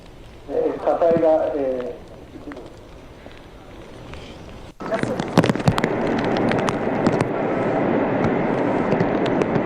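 An Epsilon S solid-fuel rocket engine bursts into flames during a ground test in Japan: after a short voice, a sudden loud, sustained crackling roar takes over.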